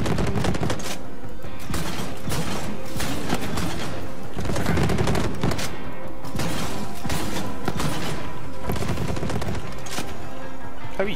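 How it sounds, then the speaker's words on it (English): Heavy shotgun blasts and gunfire from the Borderlands 3 video game pound repeatedly in loud, punchy bursts with thuds between them, filling the whole stretch without pause. "You see the fucking shotgun shots I put into you, pal."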